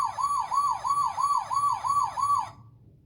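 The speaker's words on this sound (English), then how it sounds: "It's basically an alarm system, and the ball can trigger that and then it's timed off." A kid's toy alarm system, set off by a ball, sounds a loud electronic siren close by. Rapid repeating rising wails play for about two and a half seconds, then cut off abruptly into quiet.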